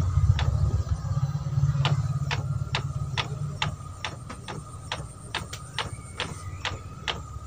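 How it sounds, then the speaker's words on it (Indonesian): A card printer runs an ID card job on PVC with Art Diamond ink, giving a low motor hum at first, then a steady series of sharp mechanical ticks and clicks, close and fairly loud. "Proses cetak ID card menggunakan tinta Art Diamond"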